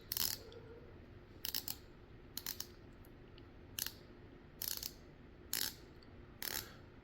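A Zelos Swordfish watch's coin-edge bezel is turned in short bursts, each a quick run of crisp ratcheting clicks, seven or so groups spaced irregularly over a faint, quiet background.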